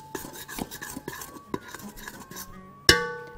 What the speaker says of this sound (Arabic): والزيت ممكن ادي تقليبه بس